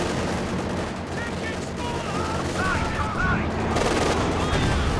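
Rapid gunfire and battle noise from Company of Heroes 2, with a PTRS anti-tank rifle volley among dense, continuous shots and bursts, while a commentator talks over the combat.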